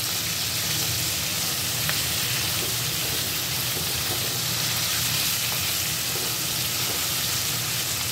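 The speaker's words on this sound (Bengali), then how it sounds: "আমি প্রথমে কাঁকড়ার ঠ্যাংগুলো দিয়ে ভাজতে শুরু করেছি।" Crab legs seasoned with salt and turmeric fry in a pan over a high gas flame, giving a steady, dense sizzle that runs loud and unbroken throughout, with no talking.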